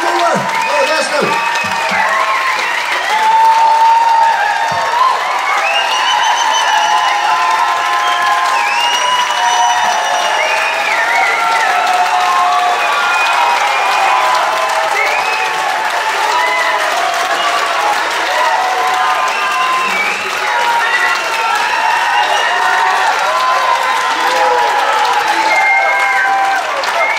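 Sustained, loud audience applause at a spring festival, steady dense clapping mixed with crowd cheering and some children's shouts lasting throughout.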